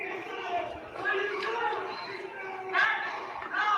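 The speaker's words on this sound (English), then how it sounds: "I hear a lot of people yelling." A crowd of people yelling and chattering in played-back footage, a muffled, distant jumble of voices with louder shouts rising now and then.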